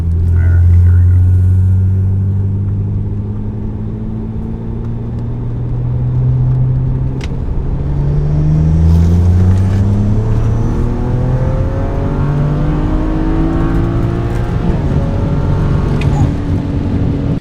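BMW accelerating in third gear from 2500 RPM, its engine droning loudly with a steady rise in pitch over a long pull, rumbling in-cabin under road noise.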